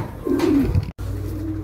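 Pigeons cooing in a roller pigeon coop, a single close, throaty coo rising over a low murmur of other birds, with a brief dropout before the soft cooing carries on.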